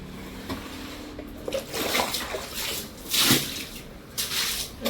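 Water splashes and gushes in bursts onto a hard balcony floor as it is washed, a few surging pours with wet slapping between them, fairly close.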